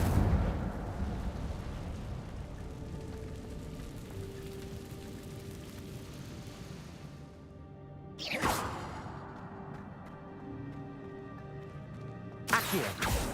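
Incendio fire spell in Hogwarts Legacy: a rushing, crackling fire whoosh swells, then two sharp bursts of flame flare out several seconds apart.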